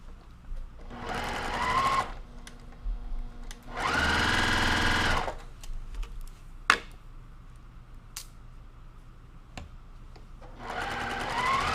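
Quilt fabric runs through a sewing machine in bursts of rapid, close needle hum, several stretches of stitching separated by pauses with faint clicks and handling.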